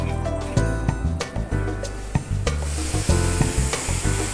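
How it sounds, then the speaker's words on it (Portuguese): Vegetable broth cooking in a small clay pot: steady loud sizzling and bubbling with clinking and stirring knocks, close and continuous with no talk. "Já vou colocar ela ali para ela já ir cozinhando na panelinha da Dona Lídia"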